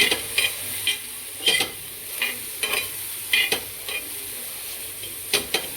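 Ridge gourd roasting in oil in a pan, with spaced spatula scrapes and stirs cutting through a constant hiss of sizzling oil, near and unaccompanied by speech.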